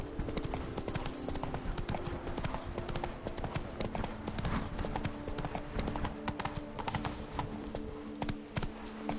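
Hooves of the horse Roach gallop in a PS4 video game, a rapid, steady clip-clop rhythm close and loud throughout, with a faint voice briefly underneath.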